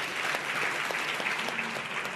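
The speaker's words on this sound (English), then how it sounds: "Please give yourselves a round of applause." A large audience applauds at the close of the inaugural chairman's conversation event, a steady, even wash of clapping that stays at moderate level throughout, with no voices over it.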